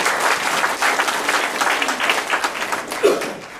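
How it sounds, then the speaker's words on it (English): An audience applauds a retiring judge, Judge Dubose of Angleton, at a candidate forum in Alvin, Texas, with steady, dense clapping that carries through without pause and swells briefly near the end. "Give him a round of applause."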